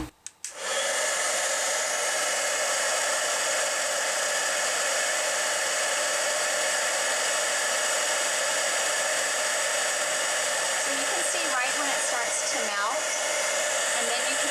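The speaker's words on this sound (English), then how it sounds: "Now when you have your heat tool, you're going to turn the button on here" A heat embossing tool blows steadily over a card image, a continuous loud whooshing hiss of hot air that runs unbroken after a brief start, with faint handling sounds near the end.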